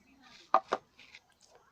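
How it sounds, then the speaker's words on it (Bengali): A knife cuts into a raw green mango, giving two quick, sharp knocks on a board, close but quiet, with faint kitchen rustling around them. "প্রথমে আমটাকে কেটে নেব"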